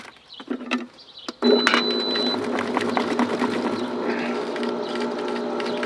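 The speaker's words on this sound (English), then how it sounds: "Take my pump over to rinse. Start it up." An Intex saltwater pool pump switched to rinse: a few clicks and knocks as the valve is set, then the motor starts abruptly and hums steadily and loudly with a rattling buzz to the end.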